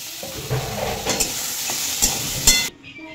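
Chopped tomatoes dropped into onions frying in a pan for matar paneer, a loud steady sizzle broken by several sharp clatters of stirring, ending abruptly.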